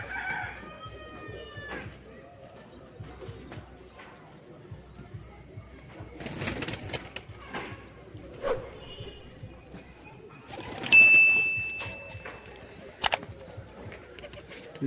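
Birds in a pigeon loft, with cooing and fowl-like calls heard in scattered bursts amid shuffling and handling noise, some quiet talk, and a sharp whistle-like tone near the end.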